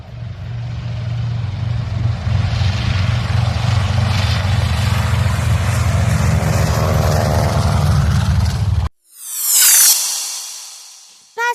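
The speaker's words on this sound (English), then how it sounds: "a plane that carries heavy goods and packages." A heavy cargo plane drones steadily and loudly with a low propeller-like rumble for several seconds, then cuts off, followed by a brief rising and fading jet whoosh.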